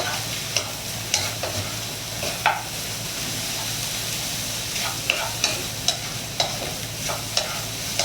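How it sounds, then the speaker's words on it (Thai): Instant noodles with egg being stir-fried in a pan, a steady low sizzle broken by sharp, irregular scrapes and clacks of a utensil against the pan, close and without talk. "เราคนแรงนิดนึงนะครับ"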